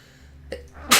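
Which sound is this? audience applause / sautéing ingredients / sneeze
sneeze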